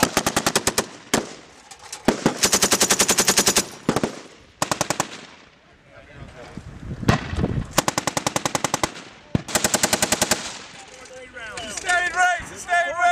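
Machine guns fire during a U.S. Marines live-fire exercise in Australia, with rapid sustained bursts broken by short pauses. The fire is loud and close, and shouted voices and commands come through between the bursts.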